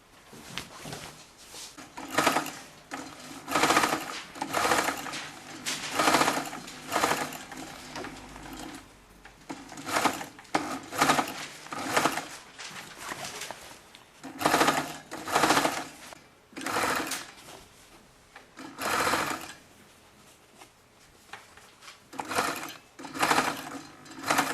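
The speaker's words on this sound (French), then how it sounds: "Maintenant, on va surpiquer." A sewing machine topstitches an unlined shirt-jacket in repeated runs of rapid, rhythmic stitching, close and loud, with short pauses between bursts.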